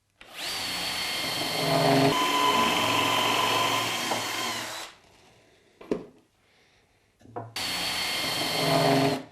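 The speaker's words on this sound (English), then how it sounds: "These are just screwed together in the same way with a single intermediate divider." A Bosch power tool drives screws into the timber frame of a small garden shed: two long, loud whirring runs of the motor, a short pause with a clack, then a third burst starting again, with no talking.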